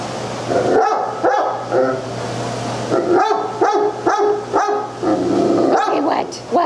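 A large dog barks loudly several times in short bursts, with a person speaking softly around the barks.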